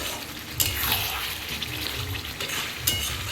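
Mutton and potatoes frying and stirred in a pan for a Bengali mutton curry, with a continuous close hiss of sizzling and a few sharper scrapes and clatters from the stirring, no voices.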